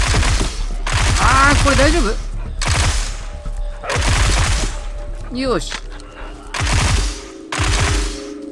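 Gunfire from weapons in the zombie horror video game Into the Dead 2 comes in loud bursts of rapid shots separated by short pauses, while someone talks over them.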